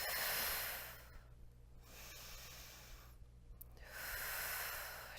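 A Pilates instructor exhales audibly during a hips and glutes exercise, with two breathy, hissing breaths close to the microphone and quieter breathing between them.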